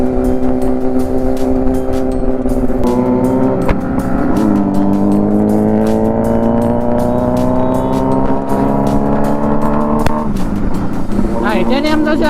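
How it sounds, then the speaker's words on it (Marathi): Motorcycle with titanium exhaust headers on a hill ride, loud close engine drone rising in pitch as it revs and shifts, repeating its climb, with voices underneath. "टायटॅनियमचा आवाज आहे की"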